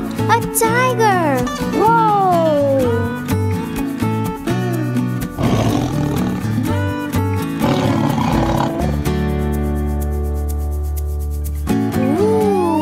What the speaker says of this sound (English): A tiger!